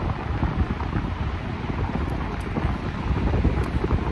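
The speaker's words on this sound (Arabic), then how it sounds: "الريح بزاف هنايا" Strong wind buffets the microphone outdoors in Morocco, a steady loud rumble with no voices over it.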